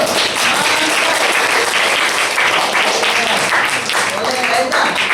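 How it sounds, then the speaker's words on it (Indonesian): Students applauding in a classroom, a loud continuous burst of clapping with voices mixed in throughout. "Oke, tepuk tangan dulu."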